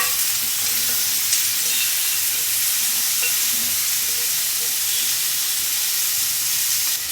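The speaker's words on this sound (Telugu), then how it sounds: "నేను ఇప్పుడు ఫ్రై చేస్తున్నా." Chickpea masala fries steadily in a pan, a loud, continuous sizzle and hiss with faint scraping from stirring throughout, no voices.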